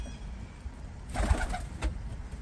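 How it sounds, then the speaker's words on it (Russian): Pigeons give a soft, low coo over about a second, a single short burst close by, then a fainter repeat, with quiet outdoor background and no talk. "Вы знаете, что это за голуби?"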